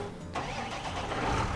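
In Farming Simulator 19, a vehicle engine revs up from a low idle into a louder, steady, rising drone, heard close with no talking.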